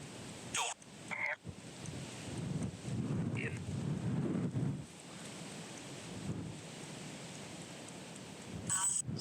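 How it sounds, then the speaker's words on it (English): Gusty wind buffets the microphone in low rumbling surges at a historic battlefield church, rising and easing, with a few brief bursts of noise in between. "It's rather windy here today."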